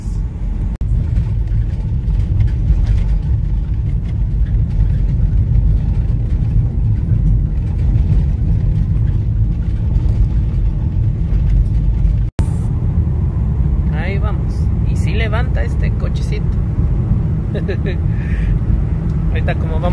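A car drives along a road, its steady low engine and road rumble continuing throughout, with a person talking over it partway through.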